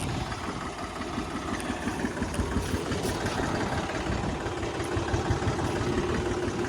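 A large tractor engine runs at a steady idle on a farm during rainy weather, with a continuous low rumble and vibration that holds a constant level throughout.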